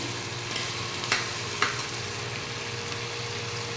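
Onions and potatoes fry for mixed-vegetable pulao in a pan with a continuous close sizzle, broken by a couple of soft stirring scrapes and no voices.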